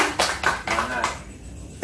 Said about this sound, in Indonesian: Tepuk tangan lah buat gurunya.